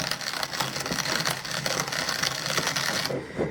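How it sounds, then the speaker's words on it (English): Coffee beans being ground in a coffee grinder, a dense steady mechanical grinding and rattling that runs close and loud for several seconds before cutting off near the end. "And now you just have to grind it down."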